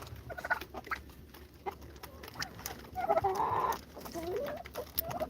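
Australorp chickens cluck softly at close range, giving a run of short, uneven clucks that swell into a louder burst midway, over a faint background hum.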